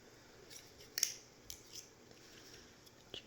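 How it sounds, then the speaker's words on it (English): Scissors snipping yarn during knitting, a few quiet close clicks and cuts spread over a few seconds in an otherwise hushed room. "just get my scissors here to show you"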